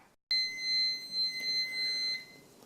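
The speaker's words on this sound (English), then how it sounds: "as you probably just heard, that was the buzzer." A sharp electronic kitchen timer buzzer beeps in a steady, rapid pulsing pattern for about two seconds, then stops, close and clear with no talking.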